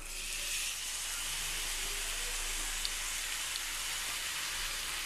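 Cooked beef dropped into frying masala in a pan, giving a steady broad sizzle and hiss close by, with a couple of faint clinks, and no speech.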